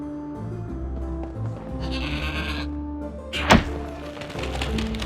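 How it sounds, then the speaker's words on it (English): A goat in the Trine 4 video game bleats loudly and close by, with a sharp thunk midway through, over a soft game soundscape and no talk. "What an amazing goat!"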